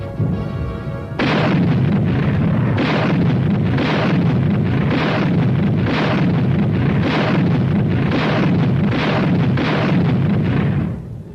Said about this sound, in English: With a little added elevation, a tank's rifle can be darn good artillery